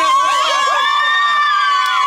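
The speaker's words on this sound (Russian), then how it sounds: "Аплодисменты!" Crowd at a Chukotka smelt festival on the Anadyr estuary cheers a team contest win: a dense, loud wash of shouting and whooping voices, with high children's calls rising and falling throughout.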